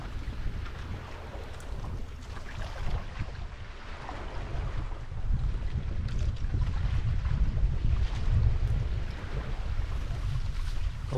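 A sailboat moves through gusty wind at Nassau Sound, with buffeting wind noise on the microphone and water rushing steadily along the hull.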